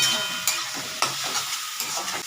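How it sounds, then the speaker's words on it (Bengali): Vegetables lightly frying in a little oil in a pan: a soft close sizzle broken by a few stirring scrapes. "হালকা একটু ভেজে নিই তেল এই তেলটাতেই হয়ে গেল"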